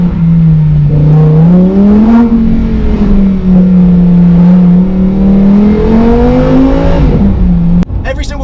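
A Lamborghini Huracan Evo RWD engine revs loudly and up close, holding a steady roar that swells and dips before cutting off sharply near the end.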